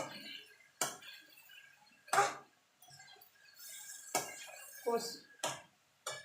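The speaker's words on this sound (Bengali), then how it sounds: "মাংসটা দিয়ে ভালো করে মশলার সঙ্গে কষিয়ে নেব।" Chicken being stirred with spices in a pan for chicken kosha: a series of sharp metallic clinks and scrapes from a utensil against the pan, spaced irregularly with quiet gaps between strokes.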